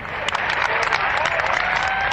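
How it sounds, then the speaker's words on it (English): An audience claps for the host of a comedic news broadcast in a dense, steady burst of applause that fills the whole moment. "Whoa, you're clapping for me again?"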